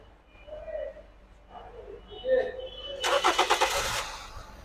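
A petrol and LPG car engine turns over briefly and catches, the start landing as a loud pulsing burst that settles into a throbbing idle. Faint birdsong is heard beforehand.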